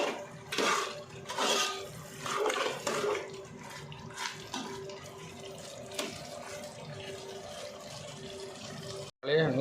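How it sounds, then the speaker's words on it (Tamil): Chicken biryani masala bubbles and simmers in a pot, with clattering utensils and a voice speaking intermittently over the cooking sounds. "நல்லா கொதிக்குது பாருங்கள்."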